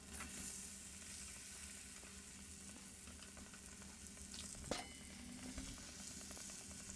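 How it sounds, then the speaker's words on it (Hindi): Fish pieces fry in hot oil with a soft, continuous sizzle and crackle. A single utensil clack lands partway through, and the sound stays fairly quiet throughout with no voices. "तो फिश हमारा अच्छा से फ्राई हो चुका है।"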